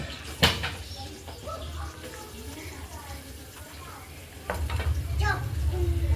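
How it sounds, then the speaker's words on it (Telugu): Onions and green chillies frying in hot oil, a steady close sizzle with stirring clatter and a louder burst of frying near the end, alongside faint background activity. "నూనె వేడైంది, ఉల్లిపాయలు పచ్చిమిర్చి ఫ్రై చేసుకుందాం"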